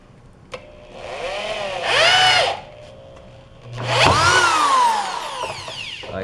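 A power drill drives a 2.5-inch screw through two pieces of soft 2x2 wood in two close, loud whirring bursts, the motor pitch rising and falling with each, separated by a short pause.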